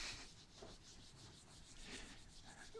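Writing is rubbed off a board in faint, quiet back-and-forth strokes, several soft swishes in a row with no talk.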